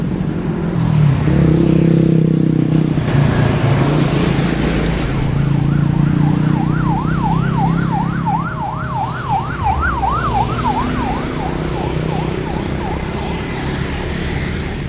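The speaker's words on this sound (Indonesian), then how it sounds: "Tadi ada ambulan lewat" An ambulance siren wails in a rapid rising-and-falling sweep as it passes along a forest mountain highway at Pujon, Malang, loud over steady traffic rumble and passing cars, then fading.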